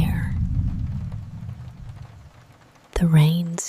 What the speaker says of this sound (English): The rain's still here.